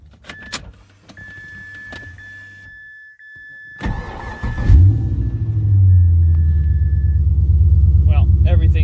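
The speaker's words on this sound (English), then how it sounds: "And maybe you can hear the exhaust." A twin turbo car cranks and its engine catches, roaring to life and then settling into a deep, steady exhaust rumble. Earlier come clicks and a faint electronic chime, and the idle grows louder and fuller toward the end.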